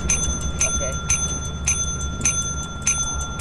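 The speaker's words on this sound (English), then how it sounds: "So let's try ring the bell." A bell in the video game Lethal Company rings in bright, repeated metallic dings at a steady rhythm, fairly loud, over a low background hum.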